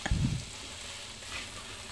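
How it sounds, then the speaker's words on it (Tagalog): Potatoes frying in oil give a soft, steady sizzle after a brief stirring clatter at the start, fairly quiet and close. "Ayan guys, iprito lang po natin para ito ay madali nang maluto mamaya."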